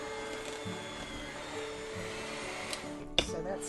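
Electric mixer creaming softened butter and sugar for cutout cookie dough, a steady close motor whir with a bowl-knocking clatter near the end.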